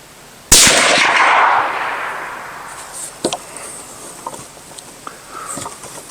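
A Bergara Wilderness Terrain rifle fires one handloaded round outdoors: a single loud, sharp crack whose ringing tail fades over about a second, followed by a few faint scattered clicks and knocks.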